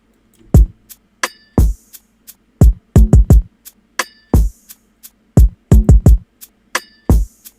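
Full drum pattern, punchy kicks, snappy hits and a conga-like small drum in a sparse syncopated loop, loud and close with silence between hits.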